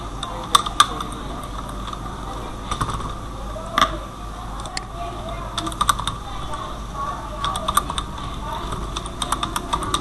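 Keys on a computer keyboard are typed in short, irregular bursts of clicks while someone talks over them.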